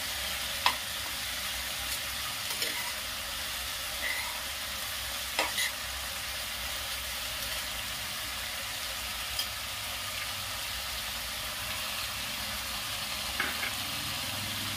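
Chicken pieces sizzle steadily in a hot pan while being stirred and browned for a stew, a continuous frying hiss with occasional soft scrapes and clinks of the spoon.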